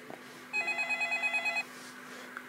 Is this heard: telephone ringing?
yes